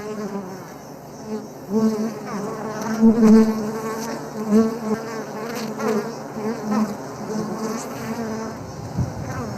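Dense swarm of honey bees buzzing loudly and continuously close by as combs are pulled from a wild hive during a traditional honey harvest in Niassa, the drone swelling and fading in waves.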